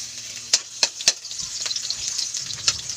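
Garlic and onion sautéing in a pan, a steady soft sizzle broken by a few sharp crackles and stirring clicks, close and moderately quiet, with no voices.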